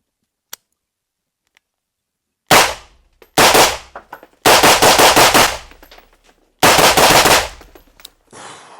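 Suppressed gunfire from a rifle fitted with a Silent Steel suppressor comes after a quiet start as four sharp, loud bursts of rapid shots. A brief softer shot follows, with mechanical clatter between the bursts and no talking.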